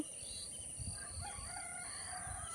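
A rooster crows during a village morning, a drawn-out cock-a-doodle-doo at some distance, with faint bird calls and a steady high insect-like whine in the background.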